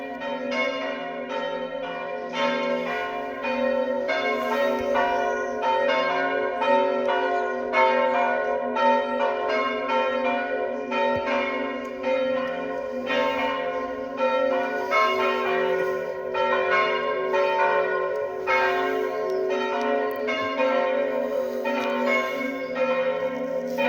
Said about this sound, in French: Les cloches sonnent encore.